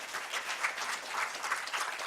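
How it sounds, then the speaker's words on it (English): Audience applause at a tribute presentation, a steady dense clapping from a crowd that holds evenly throughout without voices. "So a big round of applause for her."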